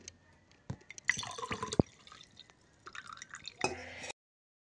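A homemade drink being strained through a sieve drips and trickles into a vessel in close, irregular bursts, with faint clinks and short pauses between splashes and no talk.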